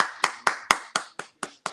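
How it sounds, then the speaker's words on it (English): Hands clap in a steady rhythm, eight sharp, close claps about a quarter second apart, ringing slightly in a room with nothing else heard. "Everybody clap your hands."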